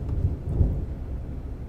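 Low, rolling thunder from a lightning strike rumbles steadily at moderate loudness, with a couple of slightly heavier swells and a faint wash of rain-like noise over it; no one speaks.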